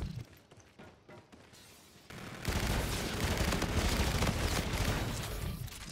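Online multiplayer match in Call of Duty: Infinite Warfare, with sustained automatic gunfire spraying loudly and continuously in the second half after quieter scattered shots and game noise.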